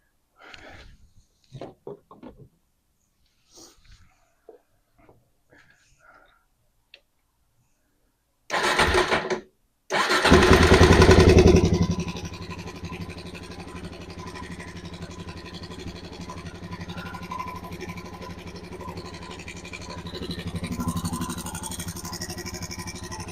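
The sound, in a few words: Suzuki DRZ400 motorcycle engine running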